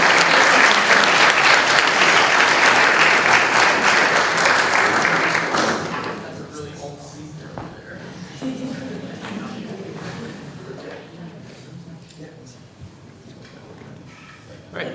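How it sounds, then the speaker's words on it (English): An audience applauds at a student winter work presentation, with dense, loud clapping for several seconds that then thins out and fades to scattered claps. "let's give them a round of applause"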